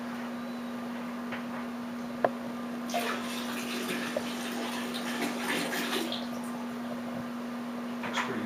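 Water pours from a gallon container to rinse out a honey jug during mead making, a steady splashing stream that starts a few seconds in and runs on over a constant low hum.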